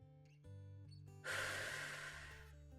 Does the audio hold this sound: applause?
no